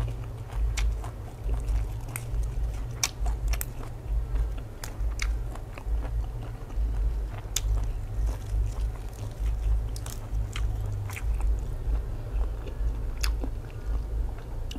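Crunchy grilled squid bought at a market is chewed close to the microphone, with repeated crisp bites and crunches over a low steady hum of background noise.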